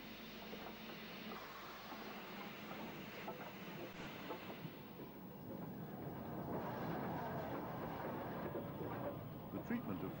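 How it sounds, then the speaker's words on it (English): Steam banking locomotives on the Lickey incline near Bromsgrove run in reverse across to the down line, a steady rolling rumble with faint wheel clatter that grows a little louder toward the end, with a voice talking over it. "The bankers can reverse across to the down line to return to Bromsgrove, watched by the signalman."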